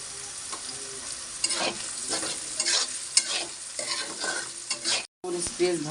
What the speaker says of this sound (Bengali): মরিচ পেঁয়াজ ভাজা হয়ে গেছে